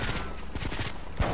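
A new gun fires in GTA Vice City in loud, rapid bursts of shots that follow one another without pause.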